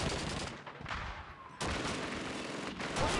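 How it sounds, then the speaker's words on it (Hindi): Rapid machine gun fire in a video game, bursts of shots rattling loudly with brief gaps between volleys, no voices over it. "वो भाई मशीन गन लेके बैठा है"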